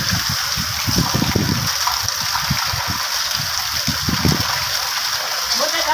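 Heavy rainwater gushes and splashes steadily from a drain spout during a downpour, a loud, close, continuous torrent with a voice speaking faintly under it.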